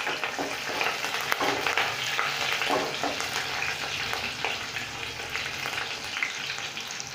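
Green chilies frying in a pan for a cabbage and pea vegetable dish, a steady loud sizzle with occasional stirring scrapes, close and continuous, no talk.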